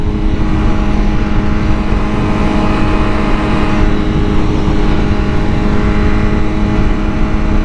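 A 2023 BMW M1000R motorcycle with a Stage 1 tune, held steady in second gear at about 6000 rpm on a highway: loud, constant engine drone with wind rush, close up and unbroken, no talk.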